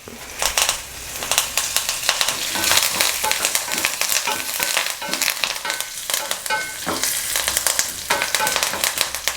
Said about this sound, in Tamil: இஞ்சி சேர்த்தோம் அப்படின்னா நல்லா எண்ணெயில் வதக்கி விடுங்க.